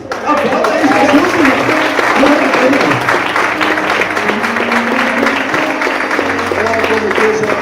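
A church congregation claps loudly and steadily during a Portuguese-language service, the applause sustained throughout, with voices and cheering mixed into the crowd noise.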